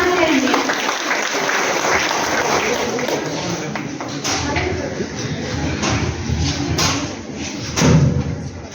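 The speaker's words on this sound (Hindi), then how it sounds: "तो प्लीज आप जोरदार तालियों से सीन 3 के लिए, सीन 3 के जो भी परफॉर्मेंस है उसको स्वागत करेंगे" Applause from an audience at a college NSS students' cultural programme on a cleanliness theme, welcoming a scene performance; steady, fairly loud clapping with some thumps from the stage throughout.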